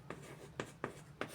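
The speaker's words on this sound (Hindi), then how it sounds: "देखिए इसका डेफिनेशन लिखते हैं" A pen scratches out a definition by hand in four brief, crisp strokes at an uneven pace. They sound close and distinct against a light background hum.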